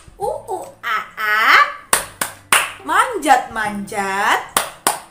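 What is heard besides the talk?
children's rhythmic hand clapping, monkey clap game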